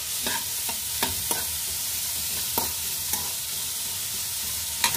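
Vegetables fry in desi ghee for masala noodles as a spoon stirs them, with scattered scraping knocks over a steady, soft sizzle close by.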